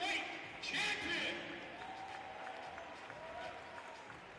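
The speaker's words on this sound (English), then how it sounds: "Guys, give Richard a big round of applause." At a British Basketball League championship game between London Lions and London City Royals, the crowd applauds a cruiserweight boxing champion. A brief swell of clapping and cheering fades quickly under an announcer's voice.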